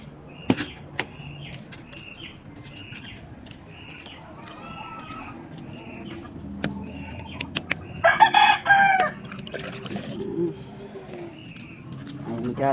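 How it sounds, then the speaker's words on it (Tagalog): Backyard chickens being fed in a rural province setting: soft scattered clucks throughout, then a loud, close rooster crow midway, with people talking faintly in the background. "Nagpakain ng manok."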